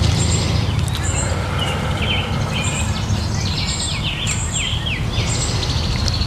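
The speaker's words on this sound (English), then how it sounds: "Enjoy the sounds and songs of the birds all around us today." Several birds sing and chirp outdoors, with repeated bright warbling phrases over a steady low rumble of wind or distant traffic.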